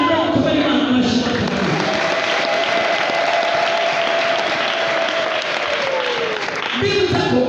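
A congregation at a church service applauds, a dense continuous roar of clapping with a sustained musical tone running through it, loud and unbroken before briefly thinning near the end.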